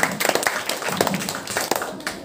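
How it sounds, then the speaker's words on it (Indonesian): A small group claps hands at an entrepreneurship training event, with scattered, uneven claps in quick bursts, close and moderately loud, mixed with some voices. "Tepuk tangan untuk Bu Nina."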